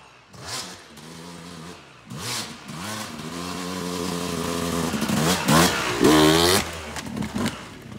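A dirt motorcycle close by, revving and accelerating in rising surges ahead of a log jump outdoors, engine pitch climbing repeatedly.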